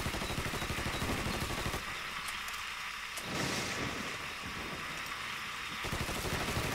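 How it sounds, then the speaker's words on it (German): Gunfire in the video game Mafia 3, a dense crackling burst of shots running nearly continuously, briefly dropping back before resuming, loud and close with no talk over it. "Oh, ein Schuss, das kann doch nicht sein."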